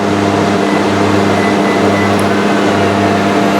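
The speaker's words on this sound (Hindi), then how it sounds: "ये लें जी माइक्रोवेव ओवन भी मैंने ऑन कर दिया।" A microwave oven runs with a steady loud electrical hum, sharing the room with other appliances running under a load of about 4 kilowatts during a live test of a Tiger ROCCO solar inverter.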